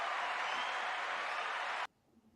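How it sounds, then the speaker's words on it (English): An audience claps in a dense, steady patter of applause that carries on for nearly two seconds, then cuts off abruptly into near silence. "let's clap up for that right there."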